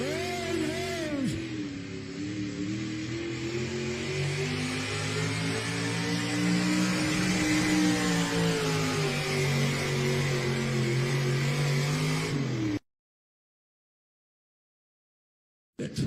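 The pulling truck Tullamore revs hard at a tractor pull in Fisher, Illinois, its engine note rising and sustained loud for about twelve seconds before cutting off abruptly into silence.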